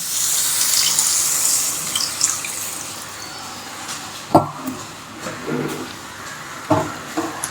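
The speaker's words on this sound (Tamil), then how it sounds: "கிழங்கு தேவையான தண்ணி ஊற்றிடுவோம்" Water runs from a tap and splashes into a cooking pot, with a few clinks and knocks as it pours.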